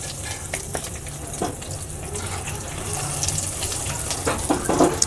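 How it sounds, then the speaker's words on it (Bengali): Chicken bread rolls frying in a pan of oil over low heat, a steady close sizzle with soft crackles and occasional bubbling bursts, growing slightly louder toward the end. "এবার আমি এক এক করে তেলেতে ভেজে নেব।"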